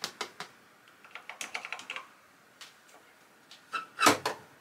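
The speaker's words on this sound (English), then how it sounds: "Flicked the power switch a couple times." Power switch on a Sharp MZ-1200 computer that will not start, flicked several times, giving a quick series of sharp, close plastic clicks with brief pauses between them and no voices.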